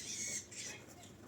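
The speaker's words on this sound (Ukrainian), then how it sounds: "Горобці, таке вже під стріхою витворяють." Sparrows squabbling and chirping under the roof eaves, giving short, busy twittering calls at close range with no talking.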